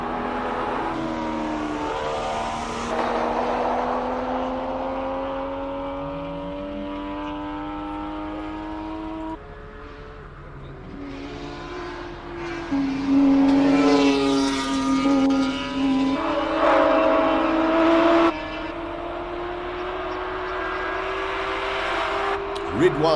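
A5-category race cars climb the Simola hillclimb, their engines rising in pitch through each gear and dropping at the shifts in repeated revving sweeps, with a commentator talking over them.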